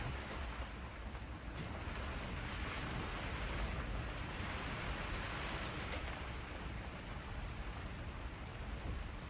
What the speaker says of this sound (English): So rain getting heavy.